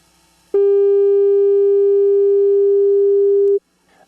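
A steady 400 hertz sine test tone sounds loud and alone for about three seconds, starting and stopping abruptly, with quiet before and after.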